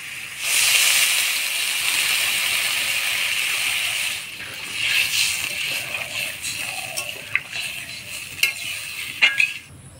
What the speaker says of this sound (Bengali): মিষ্টি লাউটা ভালো করে ভাজা ভাজা করে নিলাম। এবার জল দিয়ে দিব।